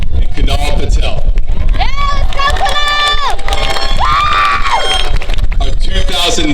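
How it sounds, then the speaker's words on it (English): Graduation audience at a high school ceremony applauding and cheering for a graduate, dense clapping with whoops and shouts, loud and continuous, with a voice speaking over the noise. "Let's give a round of applause for Pranavi Kola"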